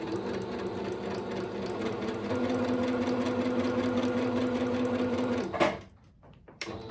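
A sewing machine stitches T-shirt fabric into a pillow sham, running in a steady, close whirring drone for about five seconds with a brief back stitch before stopping abruptly into near silence.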